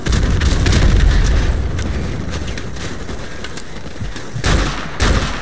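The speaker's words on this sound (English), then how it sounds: "Grenade launcher." Grenade launcher fire and blasts in Call of Duty: Modern Warfare Remastered, with heavy booming gunfire rumbling through the first seconds, then two sharp loud explosions near the end.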